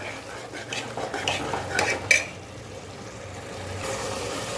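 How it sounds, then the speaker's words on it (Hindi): A spoon stirring and scraping beef kidney masala in a frying pan, with clattering metal strokes in a short burst, then quieter background cooking noise. "अब इसको अच्छे से मिक्स कर लेंगे और अच्छे से 2 से 3 मिनट तक भूनेंगे।"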